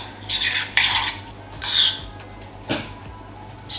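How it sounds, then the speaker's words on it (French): A spoon stirs a recipe mixture in a bowl, with several scraping, clinking strokes at uneven intervals, close and fairly loud, and no talk. "Là je vais venir mélanger tout ça"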